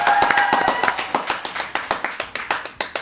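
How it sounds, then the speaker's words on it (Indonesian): Hand clapping from a small group, at first quick and overlapping, then settling into a slower, evenly spaced rhythm of close, crisp claps. "Boleh semuanya tepuk tangan yuk."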